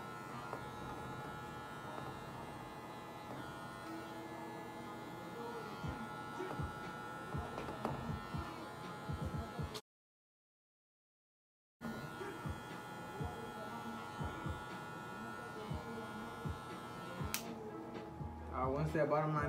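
Hair clippers buzz softly through a fade haircut, with a steady electric hum broken by a brief pause, mostly under a person talking throughout.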